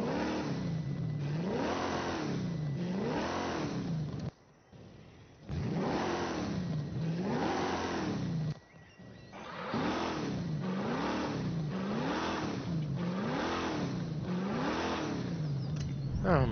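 In a video game, a twin-turbo Oldsmobile Toronado engine revs up and down in steady repeating swells, with a couple of brief drops in sound between runs. The engine noise is fairly loud and there is no talking.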